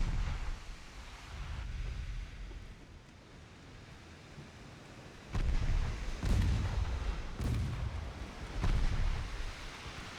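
Distant 4-inch naval guns boom repeatedly in the Ultimate Admiral: Dreadnoughts warship game, a 1909 fleet battle, several dull reports rising over a steady roar of sea and wind.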